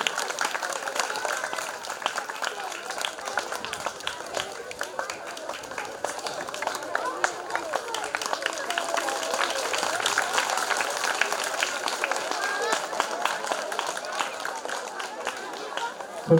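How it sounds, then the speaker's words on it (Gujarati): Sustained applause from an audience greeting prize winners at a school Republic Day prize-giving ceremony, a steady dense patter of many hands clapping that holds evenly throughout. "જેમને આપણે જોરદાર તાળીઓથી વધાવશું"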